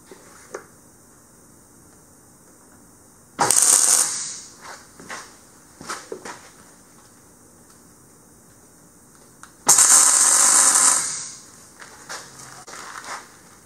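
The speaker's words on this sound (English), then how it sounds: "I'm going to tack it on there, and then I'm going to weld it" A steel plate is tack welded onto a John Deere 5075e tractor in two short bursts of harsh buzzing crackle, each about a second and a half long, with quiet handling noises between them.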